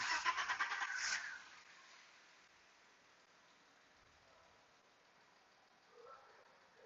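A 1993 BMW 325i with a crank-no-start fault: the starter cranks in a quick rhythmic churn for about a second, then cuts off into near silence with a faint soft sound later; quiet overall, no talk.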